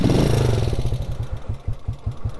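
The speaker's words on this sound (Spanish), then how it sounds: "Las punterías sí suenan un poco, pero no es tan exagerado." A 150 cc motorcycle engine with tappet noise idles up close with a rapid, uneven ticking clatter over its low putter, revving briefly at the start.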